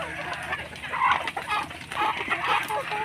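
Free-range chickens and turkeys waiting outside cluck and call at close range, with bursts of sharp, overlapping calls over a steady farmyard background.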